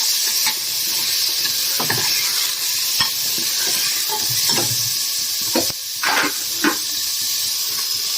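Chicken pieces and lightly browned onions fry steadily in a pan, a continuous close sizzle broken by scattered scrapes and clicks of stirring, with no voices.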